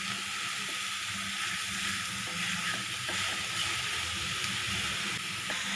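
Grated carrot with salt stir-fried and mixed in a pan for carrot poriyal. A steady, fairly loud sizzle runs throughout, with faint stirring scrapes and no talking.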